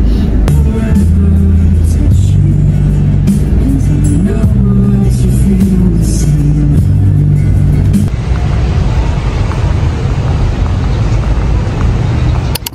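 Loud, close street traffic in Thailand near a school as students are let out, with engines idling and rumbling and vehicles passing in a continuous roar.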